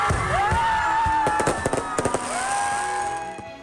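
Fireworks crackle and pop in rapid bursts with whistling rockets rising during a Christmas tree and life-sized nativity lighting ceremony in San Jose City, loud and continuous over the distant crowd.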